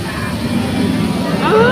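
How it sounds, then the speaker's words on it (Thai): A plane passes overhead as a broad, steady roar with a rising whine toward the end, loud and continuous outdoors. "เสียงเครื่องบิน"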